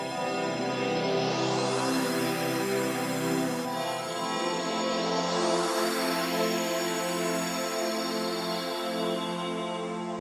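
Airy synth pad with two slow filter sweeps rising through sustained harmonic layers, each swell opening wide then fading, loud and steady throughout with no voices.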